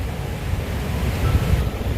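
Wind buffets the microphone at a seashore, a low rumbling wash of surf rolling beneath it steadily with a few heavier gusts, no voices.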